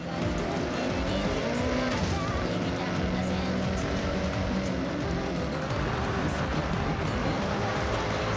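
Car racing and skidding in Forza Horizon 6 on downhill terrain, with a steady engine roar and tire noise running loud and continuous throughout, the car sliding as it refuses to turn or brake.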